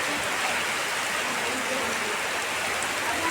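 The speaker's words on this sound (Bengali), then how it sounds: "যেমন ঝড় তেমনি বৃষ্টি" Heavy storm rain pours down in a dense, continuous hiss that stays even and close throughout, with no voices.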